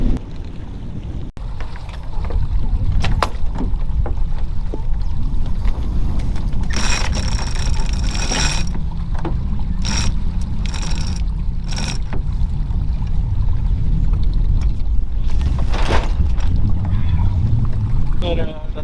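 Small sailboat on water as it readies to tack, with rattling rigging and ratcheting winch clicks over steady wind and water noise, plus someone talking at intervals.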